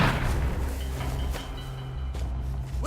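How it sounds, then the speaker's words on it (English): Heavy bombing in the video game We Happy Few: a steady rumbling barrage of booms and thuds with a low droning hum, loud and continuous throughout, no voices. "They're bombing us again!"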